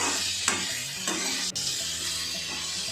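Vegetables and potatoes sautéing in a pan for rava kichadi, a steady close sizzle with a few sharp scraping stirs of a spoon against the pan.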